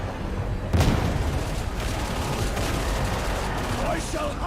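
Grenade blast and rapid gunfire in the video game Darktide, a sharp loud explosion followed by scattered shots and combat noise, with faint voices underneath.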